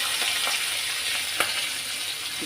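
Garlic frying in oil while making an egg and tomato mash, a steady close sizzle with a few sharp crackles and pops, no voices.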